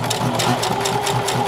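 A sewing machine runs an even seam along the edge of a durag, its steady, close mechanical chatter pulsing in a fast, regular rhythm throughout.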